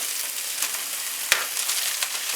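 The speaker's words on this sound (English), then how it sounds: "You can see here they're sizzling away." Sausages sizzle steadily in a hot pan, a dense close crackle of frying fat with one sharp pop and a few smaller spits.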